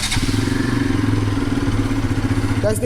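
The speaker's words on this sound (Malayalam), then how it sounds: "നമുക്ക് എന്തായാലും സൈലൻസർ സൗണ്ടോട് ജസ്റ്റ് ഒന്ന് കേൾക്കാം" A Bajaj RS 200 motorcycle idling, its exhaust giving a steady, even, close thrum with a regular pulsing beat throughout, plus a short clatter near the end and no speech.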